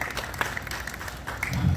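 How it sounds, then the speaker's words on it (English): Crowd clapping at an outdoor Ford dealership subscriber celebration, a steady wash of applause that carries on evenly throughout. "Let's hear a round of applause for Weston Walker."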